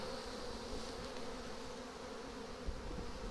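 A dense swarm of honey bees in a hive, a steady close buzzing drone throughout with one brief knock near the end.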